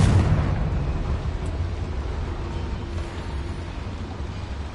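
A Confringo spell in Hogwarts Legacy goes off with a loud burst, then fades into a long, rumbling explosive roar.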